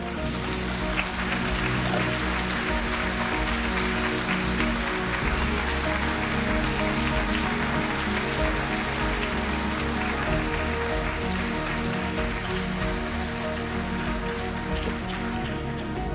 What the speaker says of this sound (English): I can appreciate that applause.